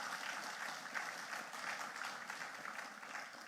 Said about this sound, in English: let's give the speaker a round of applause again